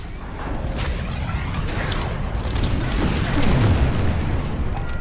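Bombs detonating in the Star Wars Squadrons space-combat video game: a dense, sustained rumble of booms and blasts with a swelling roar near the end, continuous and loud throughout.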